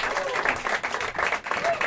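An audience at a folk club in Leamington applauds, a dense continuous patter of clapping filling the room, with a voice speaking over it.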